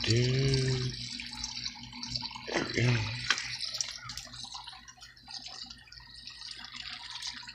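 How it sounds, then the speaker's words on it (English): Water switched on in a garden aquaponics setup with a banana tree, running from a tap or hose fed by half-inch Rainbird pipe, a steady close hiss and patter behind a voice. "let me turn some water on"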